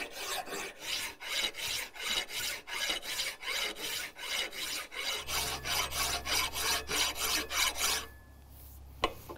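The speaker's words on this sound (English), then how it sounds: "I'm going to switch back to my more aggressive file and go ahead and take off some more of the spots" An aggressive file rasps across a wrought iron door bolt in steady, even back-and-forth strokes, close and rhythmic, about two strokes a second, ending in a short pause and a single knock.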